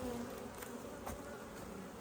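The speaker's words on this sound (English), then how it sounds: "It's unbelievable how much bees are in this colony." Honey bees drone in a steady, faint buzz from an open, crowded hive being split to prevent swarming, a continuous hum with no talking.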